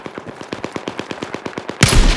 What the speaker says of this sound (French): J'ai repéré une mitrailleuse.